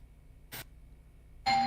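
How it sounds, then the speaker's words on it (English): A doorbell chimes at home, a bright ringing tone arriving near the end after a short dull knock-like burst against a quiet room. "Ding dong."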